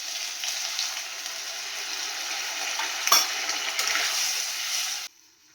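Ginger and garlic fry with three sauces in a pan for chilli paneer, producing a soft, even sizzle with a brief stirring clatter before the sound cuts off abruptly near the end.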